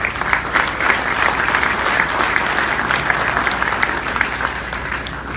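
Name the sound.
audience applause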